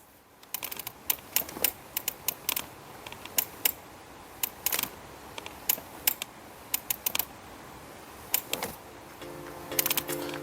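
Irregular rattling clicks and knocks come in quick uneven clusters from underneath a Mercedes-Benz EQS 450 electric car being rocked side to side, fairly close, with no talking.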